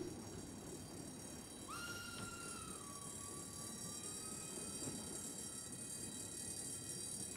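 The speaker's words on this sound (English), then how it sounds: "Having obtained visas for Germany, Gurdjieff leaves Turkey on a freight train with some of his followers." A freight train runs on rails with a low, steady rumble of wheels, joined partway through by a long, high metallic squeal that bends and fades, all fairly faint and distant.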